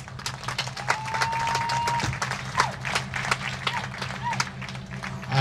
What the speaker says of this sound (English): how about a big round of applause to the crew member of Makalihi?